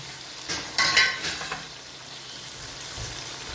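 Spices for a tempering crackle and sizzle in hot oil, a brief burst of spattering pops near the start that fades into a low steady hiss, heard up close with no talking.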